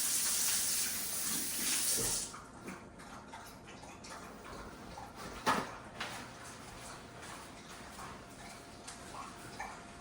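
Tap water gushes steadily at a kitchen sink for about two seconds, then shuts off, leaving faint room noise with a few soft clinks and handling sounds.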